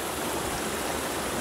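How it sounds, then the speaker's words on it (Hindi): Steady, full-band rush of water pouring at a hidden waterfall in Bahria Town, Karachi, a constant broadband roar close by with no talking over it. "आपको शायद पानी की आवाज़ आ रही होगी"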